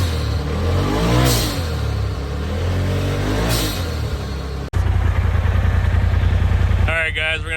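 An engine cranks and catches, then runs loud and rough with a steady pulsing throb before a sharp revving burst near the end, heard close up after an earlier stretch of muffled mechanical noise.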